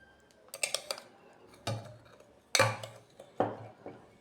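A metal spoon scoops powdered milk into a pot for nawabi semai, giving a few sharp, separate clinks and taps against the metal with quiet pauses between them.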